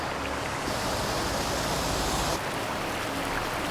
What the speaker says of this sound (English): it sounds like the water's rushing pretty good